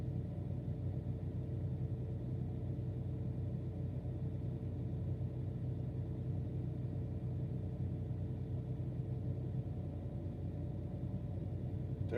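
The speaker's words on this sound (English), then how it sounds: "says he can hear the engine next to me" A vehicle engine idles close by, a steady low rumble that holds unchanged throughout with no voices over it.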